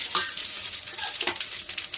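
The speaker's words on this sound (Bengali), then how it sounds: "এর মধ্যে এই যে জিরে, শুকনো লঙ্কা, তেজপাতা, লবঙ্গ এবং ছোটো এলাচ ফোড়ন দিয়ে দিলাম।" Cumin, dried chili, bay leaf, clove and cardamom sizzling in hot oil for khichuri, a bright crackling hiss with scattered spitting pops, close and steady, no talking.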